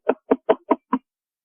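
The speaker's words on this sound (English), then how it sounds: "knocks on your door" Five sharp, evenly spaced knocks on a door, loud and close, with silence after the last one.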